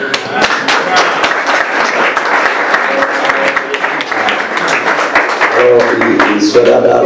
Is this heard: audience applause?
yes